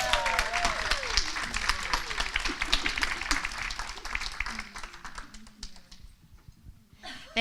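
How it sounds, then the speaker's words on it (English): An audience applauds as a speaker named Cynthia Stott is welcomed onstage, a dense burst of clapping that fades out over several seconds while a voice talks over it. "Let's go ahead and give a big round of applause for Cynthia Stott."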